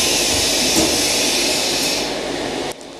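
Inside a Sydney Trains Tangara carriage, a loud steady rumble runs throughout, with a brief tone near the start and an abrupt drop in level near the end as the doors shut.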